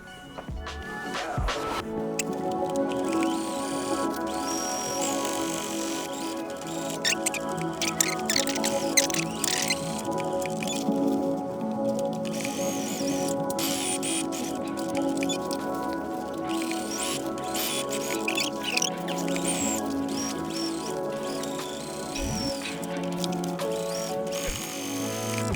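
A sewing machine top-stitches along the seams of a denim skirt made from jeans, a long, fast, steady mechanical whirring and ticking patter that runs almost unbroken, close and moderately loud.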